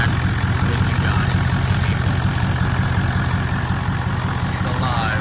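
A 6.0L Powerstroke diesel idles steadily with a freshly fitted turbo and new charge pipes, a heavy, close, continuous low-end rumble with a fast even pulse and a faint turbo whine riding above it.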